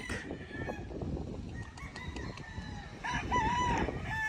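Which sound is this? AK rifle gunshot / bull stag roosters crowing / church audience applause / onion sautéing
bull stag roosters crowing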